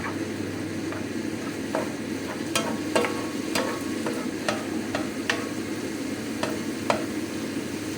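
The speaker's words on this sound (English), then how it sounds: "give this another stir" Pork mince sizzling in a pan for lasagna while being stirred, with a steady close frying hiss and a string of light scraping clicks from the spoon against the pan.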